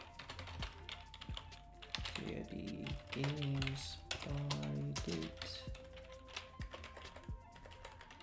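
Typing on a computer keyboard while writing code, with steady quick key taps under someone talking quietly at the start and middle.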